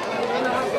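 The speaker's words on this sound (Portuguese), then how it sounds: "Aí você, torcedor, ouvindo o som do estádio." A packed football stadium crowd during a Chapadinhense championship quarter-final between América and Olaria, a dense roar of fans and chatter close to the microphone with voices mixed in.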